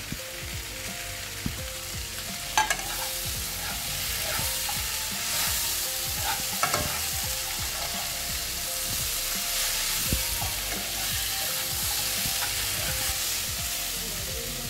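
Capsicum, beans and carrot sizzle steadily in a pan for an Andhra veg biryani, with occasional stirring scrapes and clicks over a constant close frying hiss and no talking.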